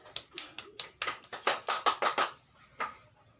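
Children clapping along in a classroom, a string of sharp, fairly loud claps in an uneven rhythm that thins out and ends with one last clap, no talking over it.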